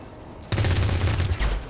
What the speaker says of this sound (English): okay, she's just gonna shoot it